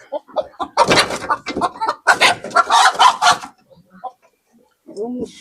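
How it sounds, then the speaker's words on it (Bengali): A large rooster of about 2.5 kg clucks and squawks in agitated bursts on a village homestead as a woman tries to catch it for cooking, with people talking over much of the commotion. "এই মোরগ দিয়ে আমরা আজকে মোরগ পোলাও পাক করবো কি আমার মা ধরতেছে ধরার চেষ্টা করতেছে"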